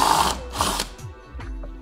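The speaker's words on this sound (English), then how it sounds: "So now I'm going to drill a hole right inside of this electrical box" Ryobi 18V cordless power tool drilling into an electrical box in drywall, giving short whirring bursts with a mechanical rattle, close and loud with no talk.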